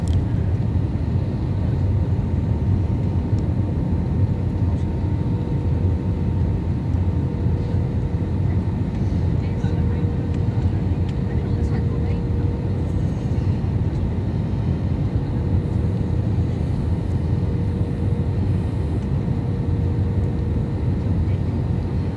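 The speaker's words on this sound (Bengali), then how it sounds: "আমি খালি ল্যান্ডিং ভিডিওটা তোলবার জন্যই এটাকে স্পেশালি করলাম।" Airplane coming in to land, heard from inside the cabin as a steady loud engine drone and rushing air with a low rumble, unchanging throughout and without speech.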